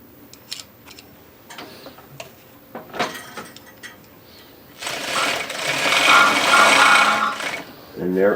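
A sewing machine stitching on 7/8 inch poly binding with a clip-on binding attachment starts with scattered clicks and taps, then runs in a loud, fast whirring burst of stitching for about three seconds before slowing.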